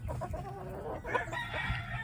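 A backyard rooster crows loudly and close by, one long drawn-out call with a few clucks from other fowl around it.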